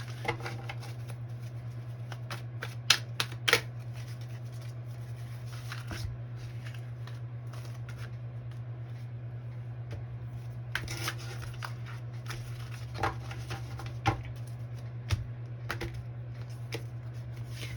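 Repeated riffling bursts of stiff Mystic Mondays tarot cards being shuffled, close and fairly quiet, over a steady low electrical hum, with brief pauses between shuffles.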